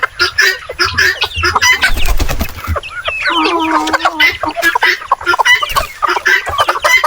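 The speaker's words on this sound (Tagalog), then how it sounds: "Ang ingay nyo. Kukak kayo ng kukak." Native chickens on a farm cluck and squawk loudly and close by, a busy overlapping chorus of clucks with a few longer calls, and a person talks briefly among them.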